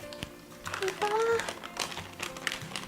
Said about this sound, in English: Just unclick the little springform pan and unwrap these parchments.